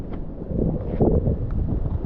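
Strong coastal wind buffets a tent pitched on a cliff above Cabangaoan Beach, a steady loud roar with gusty swells and microphone rumble, no voices.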